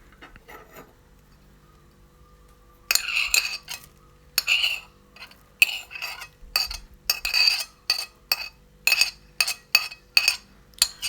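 A utensil stirs minced garlic into melted margarine in a pan, scraping and clinking against the metal in quick irregular strokes, close and fairly loud after a quiet start, with no talk.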